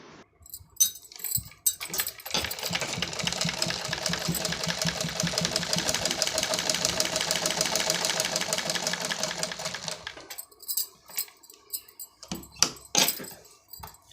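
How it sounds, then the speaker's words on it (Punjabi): A sewing machine runs a long steady stitching burst of about eight seconds through elastic on trousers, a close, even rapid whir framed by brief handling clicks before and after. "ਇਹਨੂੰ ਡਬਲ ਸਿਲਾਈ ਕਰ ਲੈਂਦੇ ਆ ਆਪਾਂ"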